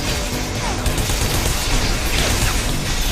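Dense, loud gunfire in the Bodycount shooter game, a continuous barrage of overlapping shots and impacts filling the whole stretch with no pauses.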